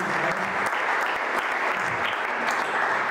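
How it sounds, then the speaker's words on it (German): Applause from an audience in a hall, a steady wash of clapping that fills the whole moment at close, even loudness without speech. "Wunderbar, schon ein kleiner Applaus"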